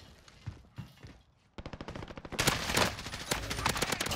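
Gunfire in the Warzone video game as a player shoots at a claymore: a quiet opening of scattered shots, then a rapid burst of automatic fire building into loud, dense shooting that continues to the end.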